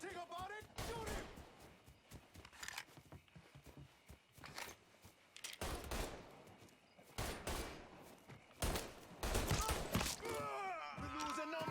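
Gunfire in the crime shooter Mafia 3: scattered shots and bursts among footsteps and movement, with voices shouting over the fight throughout.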